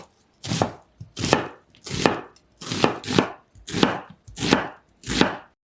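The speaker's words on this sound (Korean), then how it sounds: "양파 1개는 작은 크기로 써세요." A kitchen knife chops an onion into small pieces on a board, eight crisp, evenly spaced strikes in a steady rhythm, close and clear with no talk.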